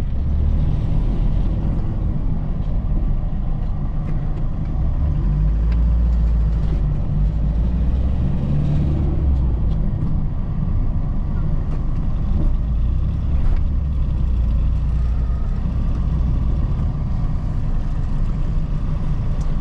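A Tata Xenon pickup truck's engine drones low and heavy as it pulls in first gear, a steady close rumble throughout with no talk over it.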